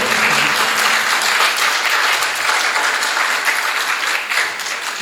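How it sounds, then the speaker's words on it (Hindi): An audience applauding at a Jain religious gathering, a dense sustained burst of clapping from many people that continues loudly throughout without pause. "अगर सभी सहमत हैं, जोर से ताली बजाएं सभी।"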